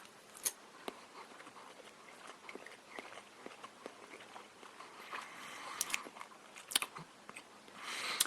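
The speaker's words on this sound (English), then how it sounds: "No one wants to see me chewing breakfast at 6:17 in the morning" Close, quiet chewing of McDonald's Big Breakfast eggs early in the morning, with soft irregular crunchy bites and mouth sounds spread across the whole stretch.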